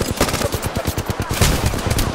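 Rapid bursts of automatic gunfire from a Spitfire light machine gun in an Apex Legends firefight, loud, dense and continuous for about two seconds with overlapping shots and impacts.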